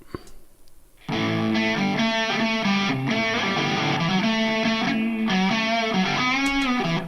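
Electric guitar recorded through a Quad Cortex amp modeler plays a driven, harmonically rich part that enters after a second of near-quiet and then sustains loudly and steadily to the end, with no talk.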